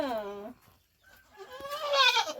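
A goat that has just given birth bleats in a farm garden, one clear wavering call followed after a short pause by a second, louder, rougher bleat, close by.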